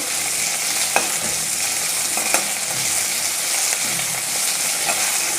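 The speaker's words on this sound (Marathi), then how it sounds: "एक मिनिटभर असं तुपावर परतून घ्यायचं आपल्याला हे बटाटा आणि मिरची." Potato and green chilli frying in ghee give a steady, close hiss of sizzling, broken by a few sharp clicks and scrapes of stirring, with no voices.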